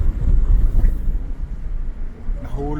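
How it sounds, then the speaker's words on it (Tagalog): Strong wind at Mirror Lakes, New Zealand, buffeting the microphone with loud low rumbling gusts that ease and return, with a voice speaking briefly near the end. "Grabe, ang lakas ng hangin."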